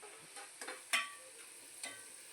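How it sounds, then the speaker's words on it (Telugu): Paneer deep frying in hot oil gives a quiet, steady sizzle, with a few soft crackling pops breaking through the low bubbling hiss. "ఇలా బాగా డీప్ ఫ్రై అయిపోవాలి"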